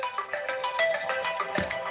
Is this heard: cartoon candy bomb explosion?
no